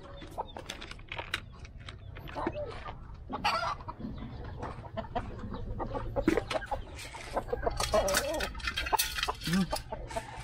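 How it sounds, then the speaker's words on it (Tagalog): Wild junglefowl cluck in a backyard among other chickens, with repeated short calls over steady farmyard noise and a voice talking at times. "Ito hindi naman aming manok to"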